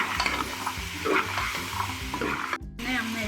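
Boiled chickpeas frying and being stirred in a pan, a close, continuous sizzle broken by repeated scraping stirs, with a brief near-silent gap before the sizzling returns.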